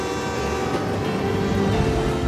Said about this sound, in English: Mister, there's a train coming!